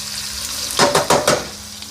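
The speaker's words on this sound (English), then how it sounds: "Flip it around a little bit, just frying it up." Beef fries in hot oil in a pan for a Beijing beef stir fry, a steady close sizzle broken by three quick scraping, spattering bursts as the meat is flipped.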